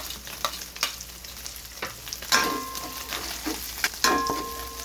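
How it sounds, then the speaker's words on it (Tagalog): Ground meat toasting with garlic in a pan gives a close crackling sizzle, with repeated sharp scrapes and clanks of a spatula stirring against the metal and no speech. "tinotoast ko muna konti bago ako mag-gisa"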